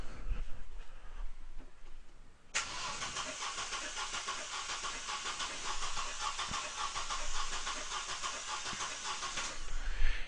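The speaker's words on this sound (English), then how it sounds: "So I'm just going to go ahead now and crank the engine." A 4-cylinder car engine cranks with the throttle held wide open, a steady rhythmic churning that starts abruptly after a quiet lead-in, runs loud and even for about seven seconds, then stops.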